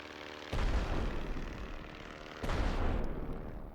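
Bombs from a bomber land in the game The Great War, two heavy booming blasts a couple of seconds apart, each followed by a rumbling tail, moderately loud with no talk.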